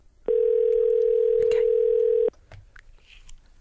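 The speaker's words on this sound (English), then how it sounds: "So let's plug in the phone number." A steady telephone dial tone plays for about two seconds, loud and unbroken, then cuts off abruptly, leaving faint clicks and low background noise; nobody speaks.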